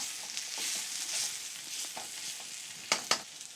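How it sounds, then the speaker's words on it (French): Cooked potatoes being lightly mashed in a pan: a soft, faint sizzle with quiet scraping and pressing, then two sharper knocks near the end, close by. "On va les écraser légèrement."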